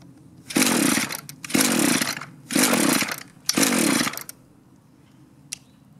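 Echo string trimmer with a two-stroke engine, run on half choke after starting trouble, revs loudly in four separate bursts of roughly a second each, dropping away to near silence in between, no voices.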